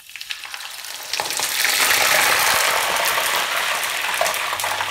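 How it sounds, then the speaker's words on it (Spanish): Frozen potatoes fry in moderately hot oil, a dense, steady crackling sizzle that swells up after a quieter first second with a few light pops, then holds loud and continuous without any talking. "sacamos las patatas congeladas y las freímos en aceite"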